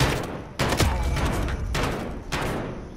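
Bursts of gunfire from a Call of Duty match, including hip fire, come as several sharp loud volleys with short gaps between them, and there is no talking over the shots.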